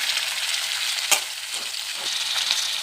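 Tomato and vallarai greens sauté in a hot pan with a little salt, a steady close sizzle broken by a few sharp stirring scrapes, with no voices over it.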